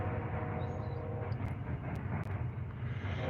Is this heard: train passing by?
yes